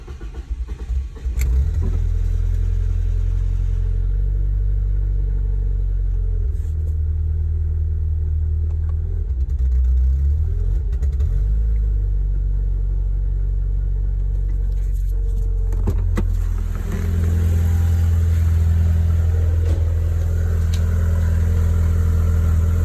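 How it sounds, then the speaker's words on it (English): A BMW E36 Touring engine running through a new custom exhaust after six months unused, a loud, deep steady drone with occasional revs and shifts in tone throughout, heard alone close up. "What do you think about my exhaust sound?"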